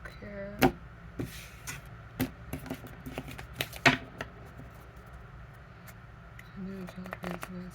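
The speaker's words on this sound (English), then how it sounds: "Let's cut the deck here." Cards being cut from a deck: a scattering of sharp dry clicks and snaps, close and fairly quiet, spread irregularly across several seconds with pauses between them.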